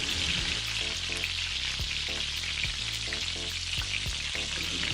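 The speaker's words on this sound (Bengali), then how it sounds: "খুব ভালো মতো গরম করে আমি আলুটাকে বেশ লাল করে ভেজে নেবো" Potato pieces fry in hot mustard oil in a wok, giving a steady, close crackling sizzle with regular soft knocks from stirring, while gentle background music plays underneath.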